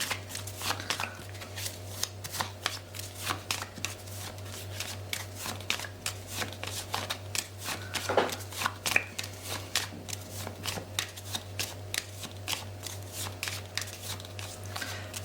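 Tarot cards are drawn and handled from a pile, a close, quiet series of rapid flicks, slides and soft card snaps recurring steadily, with a low hum underneath.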